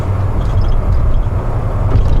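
A 1986 Mercedes-Benz 300E rolls over bumps, its steady low road and engine rumble heard from inside the cabin with faint knocks and thumps over the tyre noise.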